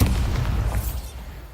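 A Bombarda spell explosion in Hogwarts Legacy, a single heavy, low booming blast that rumbles and slowly fades over a second and a half.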